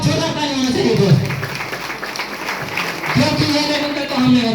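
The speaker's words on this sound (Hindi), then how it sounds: "एक बार हमारे स्वर्गीय वरुण सर के लिए एक बार जोरदार ताली होना चाहिए दोस्त" An audience claps steadily throughout a recognition event for achievers. Someone speaks loudly over the sustained applause.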